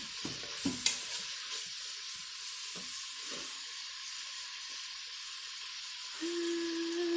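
Bacon sizzles in a Pampered Chef Quick Cooker while a utensil stirs and scrapes the pan in a few distinct strokes; a soft, steady hiss continues underneath, and a faint tone sounds near the end.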